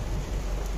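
Heavy rain pours outdoors near the Kiangan National Shrine in Ifugao, Philippines. It is a dense, steady roar of rainfall with a deep rumble and no voices.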